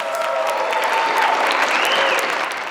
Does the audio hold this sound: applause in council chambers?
yes